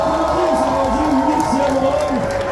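Crowd cheering and clapping at a hot pepper eating contest, a loud continuous roar with a voice talking over it.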